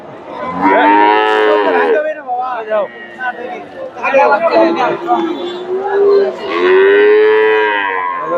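Cattle moo loudly and close by at the Dhap livestock market in Bogura, Bangladesh, including Friesian heifers, several long drawn-out calls with people talking in the background.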